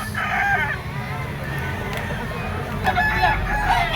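A Gilmore stag gamecock crows at a busy rooster market in Lipa, its hoarse call rising over a steady crowd murmur and other birds, with more crowing farther off.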